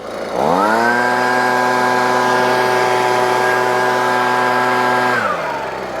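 A gas leaf blower's small engine, a Husqvarna 125B or Echo PB-2620, revs up sharply to a high, steady whine, holds loud and close for several seconds, then drops back down.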